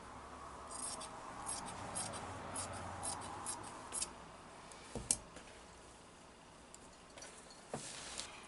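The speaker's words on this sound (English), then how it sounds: "cut the folded edges." Scissors cutting through the folded edges of flannel fabric, a series of soft close snips and rustles with a few sharper clicks of the blades, quiet and without talk.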